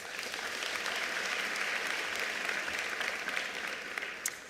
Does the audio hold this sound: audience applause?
yes